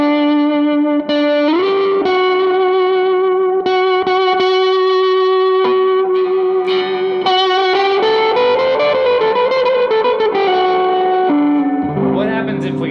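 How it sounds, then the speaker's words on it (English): Moniker electric guitar played through fuzz distortion with reverb added, sustained chords and ringing notes that shift in pitch, loud and continuous throughout. "what if we slap a little reverb on there"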